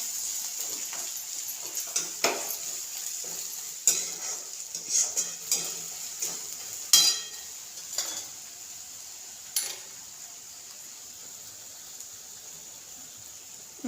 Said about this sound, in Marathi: छान असं परतून घ्यायचं.